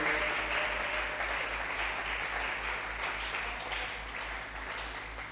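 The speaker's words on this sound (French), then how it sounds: "Acclamons le Seigneur." Congregation applauding in a church service, a steady dense wash of clapping that holds through the whole stretch and slowly eases in loudness, with no talk over it.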